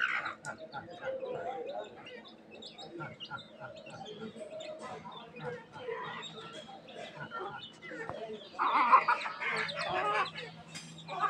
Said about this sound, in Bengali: একটা মুরগির লগে খাইতেছে।